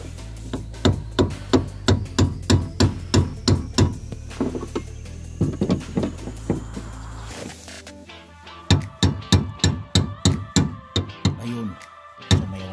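A fuel pump retaining ring is tapped loose without special tools. Repeated sharp metallic taps come in quick, rhythmic bursts with a short pause midway, close and fairly loud, and there is no speech.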